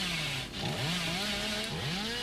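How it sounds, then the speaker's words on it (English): A chainsaw revving loud and close in the horror game Dead by Daylight, wielded by the Hillbilly as he charges straight ahead, its engine note rising and falling in continuous sweeping whines. "When you use Billy's M2 power, you will use his chainsaw and go straight forward."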